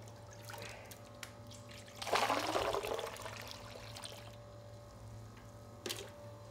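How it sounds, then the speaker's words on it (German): Water pouring into a horn bell plugged at the bottom in an instrument workshop, a soft rushing splash that swells and then trails off, fairly faint and without talk. "Dieser Mitarbeiter stöpselt das Schallstück unten zu und füllt es mit Wasser."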